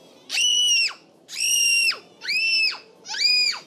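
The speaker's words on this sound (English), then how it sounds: "Just stop screaming." A child shrieks in a tantrum over a Cabbage Patch Kid toy in an acting scene, four long, loud, piercing screams in a row with short breaths between them and no other voices.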